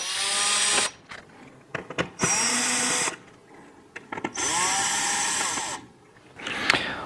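Power screwdriver backing screws out of the power board inside a Vizio TV, several loud whirring bursts of a few seconds each with quiet handling clicks between them.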